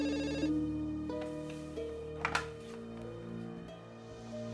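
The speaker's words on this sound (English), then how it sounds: "the business phone would ring a couple times a day" A business landline telephone rings in repeated electronic tones over a steady background hum, fairly close and with no voices.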